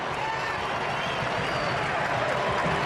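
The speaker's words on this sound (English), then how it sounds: "The German faithful in the crowd erupt." A large stadium crowd of German supporters roars in a dense, sustained wall of cheering after a World Cup goal against the USA, steady and loud throughout with no single voice standing out.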